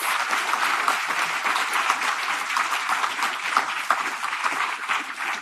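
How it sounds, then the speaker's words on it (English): A gala audience at a National Poetry Month event gives a lineup of poets a big round of applause, dense sustained clapping from a large crowd, loud and even throughout with scattered sharper claps standing out. "give them all a great big round of applause"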